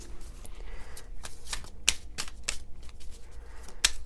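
Tarot cards being shuffled by hand, a steady run of crisp riffling flicks and slaps with sharp snaps near and loud, no talking.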